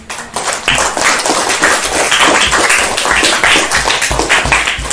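Classroom applause after a student group presentation, with many hands clapping steadily and densely, close and fairly loud throughout.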